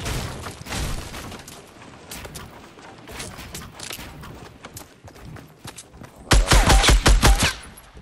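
Video game gunfire crackles in scattered shots and short bursts during a squad battle, then swells into a loud, rapid volley near the end.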